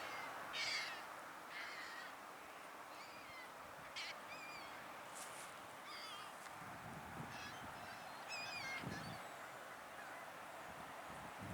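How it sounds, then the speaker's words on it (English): Seagulls crowding a dock at the south end of Keuka Lake give scattered, faint calls. The squawks come in short clusters over a constant hiss of outdoor ambience. "And then look at all these seagulls."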